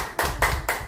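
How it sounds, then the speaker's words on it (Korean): A church congregation breaks into applause for a new accompanist, the sound coming as three short, loud bursts of clapping in close succession. "칭찬의 박수 보내겠습니다."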